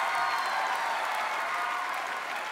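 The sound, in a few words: studio audience applause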